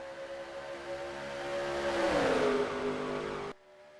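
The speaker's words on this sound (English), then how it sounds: "Tim Kourting in second, about to get swallowed up by the tin truck." Racing trucks at Pocono Raceway roar past in a sustained engine drone that swells and bends in pitch as they pass, loud and close, before cutting off abruptly.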